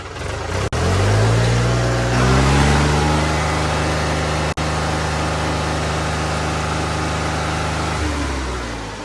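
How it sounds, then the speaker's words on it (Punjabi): A New Holland tractor engine sputters to life, revs briefly, then settles into a loud, steady low idle close by. "ਲਓ ਜੀ ਬਾਬਿਓ ਟਰੈਕਟਰ ਹੋ ਗਿਆ ਸਟਾਰਟ"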